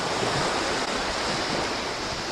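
Ocean waves break and wash onto a beach with a small rock in the foreground at dawn, a steady, fairly loud rushing surf with no voices.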